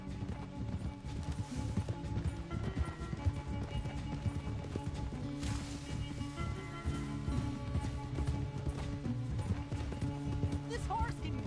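Hooves of a galloping horse in Red Dead Redemption 2 thud in a fast continuous clip-clop beneath steady game music, with a voice talking over the ride.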